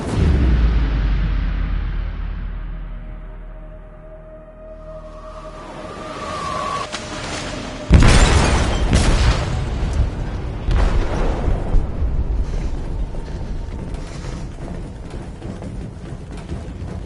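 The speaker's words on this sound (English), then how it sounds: "They detonated an explosive in the hold." An explosive detonated in a ship's hold in Detroit: Become Human, a heavy deep boom that rolls and fades, followed by a sharp loud blast and rumbling, crackling aftermath.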